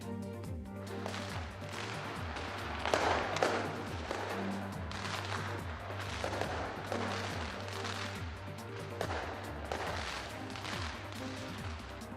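New Year fireworks display in New Zealand: repeated loud bangs and crackling bursts arrive in quick succession over a steady low hum, continuing throughout.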